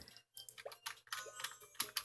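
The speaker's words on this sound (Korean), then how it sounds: "키보드 소리가 조금씩 있어요." Computer keyboard typing in a quiet room, a soft close patter of irregular key clicks in quick bursts with brief pauses.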